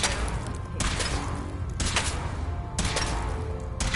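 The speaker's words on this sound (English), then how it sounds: "Have you ever fired a minigun?" A minigun in the Fallout 4 video game lets off repeated bursts of rapid gunfire, loud and close, with brief gaps between the bursts.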